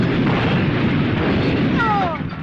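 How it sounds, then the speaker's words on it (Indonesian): A loud, sustained roaring blast fills the space, rumbling heavily for about two seconds before fading slightly at the end. "ruangan itu meledak"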